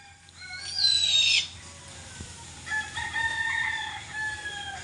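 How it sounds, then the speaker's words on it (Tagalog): A hungry bird gives a drawn-out, rising call, then a quieter wavering series of calls follows, heard at moderate distance over soft background noise. "Kasi huni siya ng huni kapag gutom na siya."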